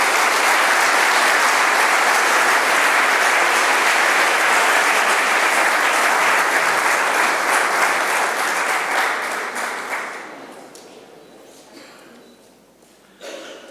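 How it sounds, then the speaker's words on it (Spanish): A gala crowd marking the hospitality federation's 40th anniversary gives loud, sustained applause to a bar being honoured. The clapping holds steady for about ten seconds, then tapers off to a few scattered claps. "Un aplauso para ellos, por favor."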